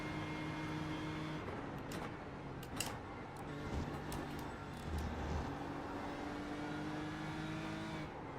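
The Toyota GR Supra SP8T race car in iRacing at the Nurburgring holds a steady, droning engine note with slight rises and dips in pitch, mid-level and continuous, with no talk over it.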